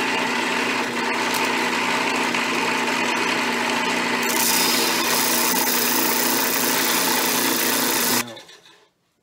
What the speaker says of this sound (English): we're going to come over here to our sanding disc, and we're going to grind the teeth off of one side of the file